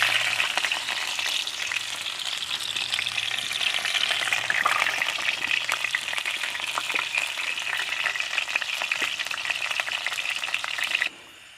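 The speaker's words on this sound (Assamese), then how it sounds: "তেলখিনি ভালদৰে গৰম হ'বলৈ দিওঁ আৰু মই এই কাটি থোৱা পিঁয়াজকেইডোখৰ ইয়াত দি দিলোঁ।" Chopped onions fry in hot oil for a chicken dish with vine leaves, a loud, close, continuous sizzle with faint stirring clatter, cutting off abruptly near the end.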